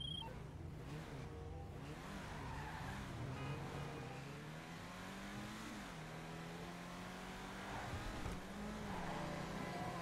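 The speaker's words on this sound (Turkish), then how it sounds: "Arabamızı dışarı çıkartalım." An Ubermacht Rhinehart, a BMW 5 Series-style sedan in GTA 5 Online, drives out with a steady engine drone and shifting revs, held at an even moderate level throughout without speech.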